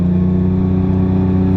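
A 1000hp 9ff Porsche Turbo engine drones loudly and steadily up close, its deep, rich harmonic hum holding at a constant high level under acceleration with no voices present.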